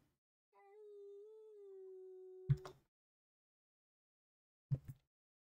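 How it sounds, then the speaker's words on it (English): A long, steady game-creature howl rings out alone in the survival game Dinkum, holding one wavering tone for about two seconds, then cutting off into a short thump, with another brief thud a couple of seconds later. "the howling is annoying me"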